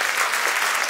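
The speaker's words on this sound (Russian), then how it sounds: "Оркестр, ваши аплодисменты, друзья." Concert hall audience applauding an orchestra at a gala concert, a brief, dense burst of steady clapping under a second long.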